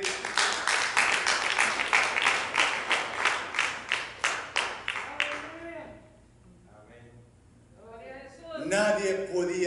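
A church congregation claps in a steady, rhythmic beat for several seconds, then the clapping stops and a voice speaks. Clapping starts up again faintly at the very end.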